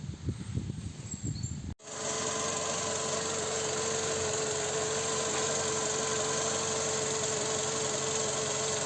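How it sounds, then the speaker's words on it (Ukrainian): A steady, warmed-up engine idle of a 2011 Skoda Octavia A5 1.6 MPI hums evenly after a brief rustling start, with a constant low drone and no knocking or change in pace. "Двигун нагрівся, працює рівно, ніде не стукає."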